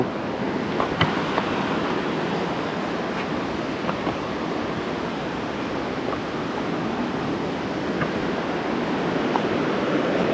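Ocean surf at Mattu beach rolls in as a continuous broad wash near rocks placed against the current, with faint scattered clicks and no voices.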